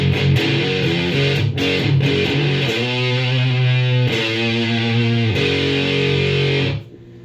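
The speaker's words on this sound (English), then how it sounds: "Here's the sound of the Suns by itself." Electric guitar through a Suns fuzz pedal on its own, a thick, saturated distorted tone with sustained chords and riffs played continuously at steady loudness, cutting off abruptly near the end.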